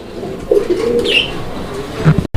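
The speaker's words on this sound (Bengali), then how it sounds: "আপনারা কবুতর দেখেন" Pigeons at a pigeon sale cooing close by, with a few soft throaty coos and faint chirps against a busy background murmur.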